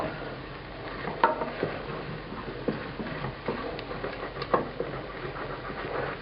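Vegetables for a shellfish stock cook in a pan while a utensil scrapes the browned bits off the bottom, with a low sizzle beneath irregular scraping and knocking strokes.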